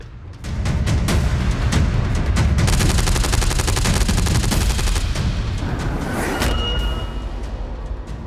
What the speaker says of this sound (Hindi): एंटी एयरक्राफ्ट गन से ताबड़तोड़ फायरिंग।